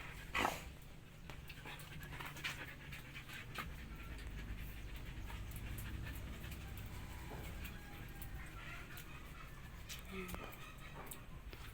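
A dog pants steadily and close by under a constant background rumble, with faint whimpers and small thumps scattered throughout.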